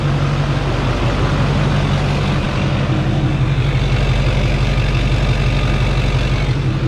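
A Duramax diesel engine runs with an open downpipe, idling with a loud, steady low rumble that has a fine chattering texture. The engine stays even and constant throughout and is heard close up.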